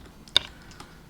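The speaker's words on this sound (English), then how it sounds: "My Enter button, of course, on my Razer keyboard is in fact a little quieter, but you still have to hit it to advance it" A single firm keypress on the Enter key of a Razer computer keyboard, one sharp click near the start with a fainter second tap after, close and alone against quiet background.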